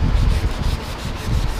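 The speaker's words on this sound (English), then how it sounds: "grabbing the 320 softback sanding sponges, going over all these edges" Steady, close hand sanding of car body panel edges with a 320-grit softback sanding sponge, a rough scratchy rub sweeping back and forth in quick strokes.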